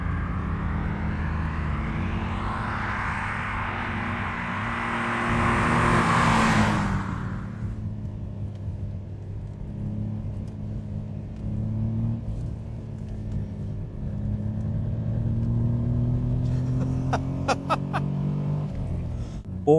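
A 1990 Ford Sierra 4x4 (Merkur XR4Ti) engine pulls steadily at around 2,500 rpm, a smooth continuous drone with a brief louder surge early on, heard from inside the car with no talk over it.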